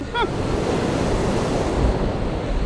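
Ocean surf rolls in at a beach under strong wind, a steady, loud rush of waves with microphone buffeting throughout.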